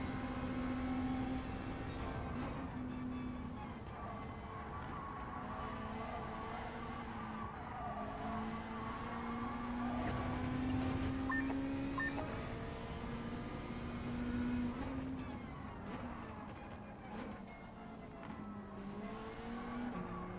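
Race cars in Gran Turismo 7 drive steadily through a lap, one in the slipstream of another, with a continuous droning engine note that rises and falls with gear changes and a faint tire squeal, and no one talking.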